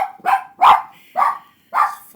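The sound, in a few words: dog barking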